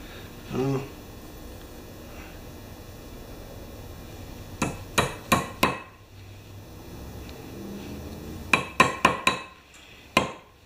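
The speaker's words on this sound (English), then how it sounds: "This is a nice hammer." A hammer strikes a tool while setting a mark in non-powered hand-tool work, with a few sharp metallic blows, a quick cluster of three, then another burst of four and a last single hit, close and ringing with faint room noise between.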